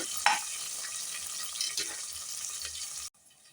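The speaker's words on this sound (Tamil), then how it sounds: "சின்ன வெங்காயம் நல்லா வதங்கணும் வெங்காயம் நல்லா வதங்கட்டும்" Small shallots sauté in a pan for a Tamil-style goat head curry, giving a steady broadband sizzle with a few scraping stirs, close and moderately loud, cutting off abruptly near the end.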